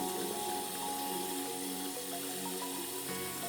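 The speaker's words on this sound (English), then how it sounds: "We're gonna start with some warm soapy water." Warm water mixed with Dawn dish soap runs steadily into a basin, a constant even rushing like a tap filling a sink, close and uninterrupted for the whole stretch.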